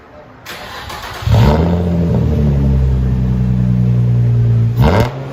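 A 2004 Nissan 350Z with a 3.5L V6 and straight-pipe exhaust starts up nearby with a sharp crank and loud bark, then settles into a deep, rumbling idle before a brief rev near the end.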